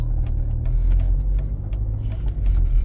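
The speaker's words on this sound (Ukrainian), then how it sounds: "Вмикаємо першу швидкість та підводимо щеплення і починаємо рух" A manual-transmission car pulling away in first gear during a driving exam, its engine a steady, loud low drone from inside the cabin with small rhythmic knocks and rattles.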